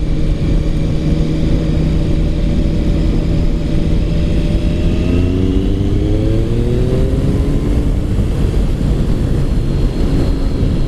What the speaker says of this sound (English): It's just got a nice note when I open up the throttle